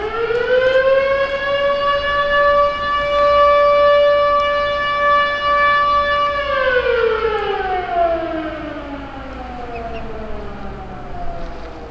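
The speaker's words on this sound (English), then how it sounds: "There it is, there goes the bear siren." A loud, steady town bear curfew siren in Churchill, Manitoba, Canada wails on one sustained pitch, then slowly winds down, its tone sliding lower as it fades, with no talk over it.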